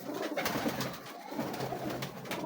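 A pet pigeon or dove coos softly and repeatedly, a low rolling call close to the microphone over a steady, slightly noisy background.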